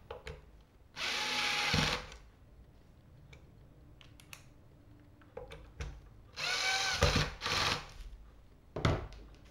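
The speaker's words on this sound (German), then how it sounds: "Akkuschrauber mal geholt, weil das doch ein bisschen schneller geht." A cordless screwdriver drives screws into a Harley Benton guitar kit during assembly, running in two long whirring bursts and a shorter third burst, with quieter handling clicks and knocks between them and no talking.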